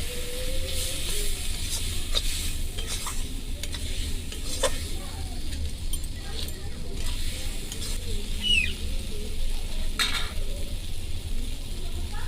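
Meat sizzles steadily in a hot pan as it is stir-fried with cumin powder, with close, repeated scraping and stirring over a constant frying hiss and no talk.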